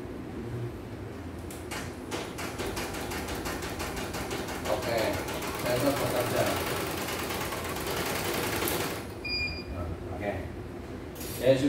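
An industrial sewing machine runs with a rapid mechanical chatter that builds into a dense, steady whir before it stops and a few clinks follow, heard close throughout.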